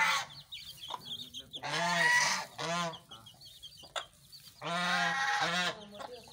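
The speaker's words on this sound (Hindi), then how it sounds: "ये चूजे 3-3 हफ्ते के हो गए" Three-week-old desi chicks with their mother hen make repeated harmonic clucking and calling in short bursts, two longer loud calls standing out, with faint cheeping between them and no talking.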